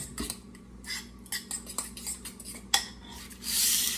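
A spoon clatters and scrapes around a bowl while mixing softened cream cheese filling for bacon stuffed jalapeños, in quick irregular knocks and taps, close up, ending in a brief soft rush, no talk.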